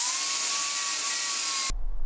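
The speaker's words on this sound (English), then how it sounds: "I'm gonna go ahead and get this cleaned up with the wire wheel" An angle grinder fitted with a wire wheel cleans up a fresh stick weld, giving a steady, loud, high-pitched whine that cuts off abruptly near the end.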